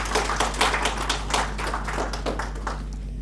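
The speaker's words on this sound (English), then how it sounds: "Can we have a round of applause for Goa Livelihood Forum?" Applause for an NGO receiving an award at a community meet-up, a modest group clapping at close range with uneven individual claps, over a steady low electrical hum.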